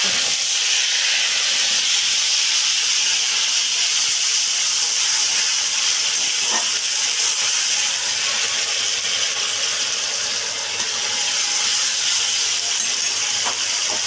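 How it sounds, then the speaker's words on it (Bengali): A paste of ground onion, green chili and garlic sizzles loudly in hot oil, in a pan where fish has just been fried, as a steady, close, hissing crackle with no talk. "এখানে আমি যে পেঁয়াজ কাঁচা লঙ্কা রসুনটা বেটে রেখেছি এটা আমি তেলে দিয়ে দিচ্ছি"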